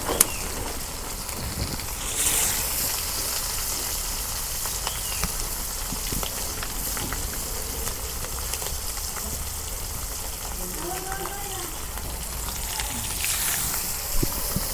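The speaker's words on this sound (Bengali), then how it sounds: "এখন আমি মাছ ভাজা নেব।" Rupchanda pomfret fish frying in hot oil in a village kitchen, a loud, steady, close sizzle with fine crackling spatter running throughout, no voices.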